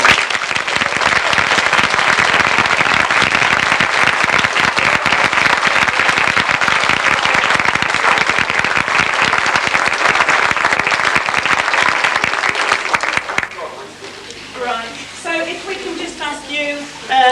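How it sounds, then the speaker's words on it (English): A large audience gives a loud, dense, sustained round of clapping after a children's performance, roaring steadily for most of the time before abruptly cutting off into quieter room sound with faint voices. "I think we can perhaps give them all one more clap"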